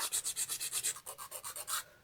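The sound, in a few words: nail file shaping press-on nails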